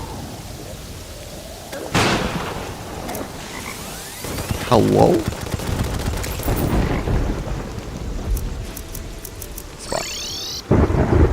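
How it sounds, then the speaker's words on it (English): Acid rain and rolling thunder in the video game Terraria, with a steady rain wash, a sharp thunder crack, and croaking, frog-like game creatures layered over it, plus brief in-game effects and a short spoken word. "I just wanted to reset the acid rain"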